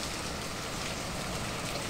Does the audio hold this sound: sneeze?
no